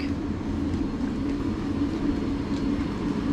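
A Class 700 Thameslink unit at Littlehaven station in West Sussex sits ready to depart, giving a steady low electric hum and drone at moderate distance with faint rattles.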